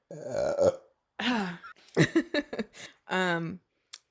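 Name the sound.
burp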